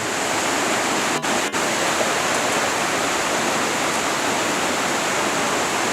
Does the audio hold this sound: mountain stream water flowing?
yes